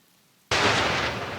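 Heavy rain bursts in suddenly after near silence, a loud, dense, broadband downpour that keeps pouring steadily with no voices.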